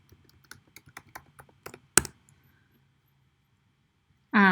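Keys clack on a computer keyboard as a password is typed, roughly a dozen light, separate keystrokes ending in one harder press, then quiet and a short loud burst at the close.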